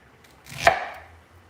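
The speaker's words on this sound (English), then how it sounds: "Why don't we cut some of this onion up into chunks and put that in the bowl." A knife chops through an onion into chunks on a cutting board, one crisp close cut with a short thud, alone in a quiet kitchen.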